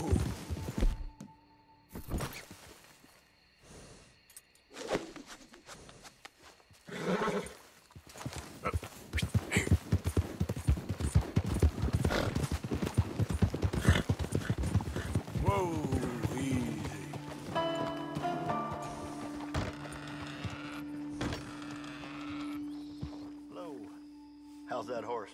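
A Fox Trotter horse in a western video game, its hooves clip-clopping in a quick rhythm with a neigh in between, under talk between game characters and a swell of music.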